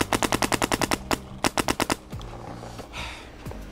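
A Planet Eclipse Geo CS2 paintball marker fires a rapid burst of about ten sharp, evenly spaced pops, pauses briefly, then fires another quick string of about six, loud and close, followed by fainter ambient rattle.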